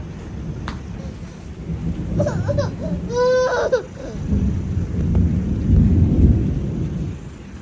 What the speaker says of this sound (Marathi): पहिलाच अवकाळी पाऊस